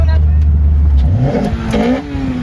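A Lotus Elise 111R engine roars loudly up close, its pitch climbing as it revs and accelerates hard, with a voice briefly heard underneath.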